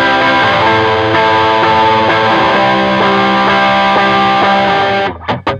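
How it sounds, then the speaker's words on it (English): An electric guitar played through a blues pedal turned all the way up gives a loud, crunchy overdriven tone, with sustained chords re-struck in a steady rhythm for about five seconds before cutting off. "Patch B is the blues pedal turned all the way up."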